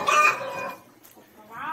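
A hen clucks in a short burst of bright, raspy calls that fade, then a softer call returns; it sounds close and fairly loud amid a farm-animal setting.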